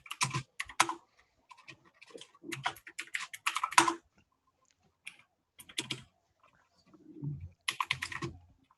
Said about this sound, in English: it sounds like you're slamming your keys. I have a mechanical keyboard.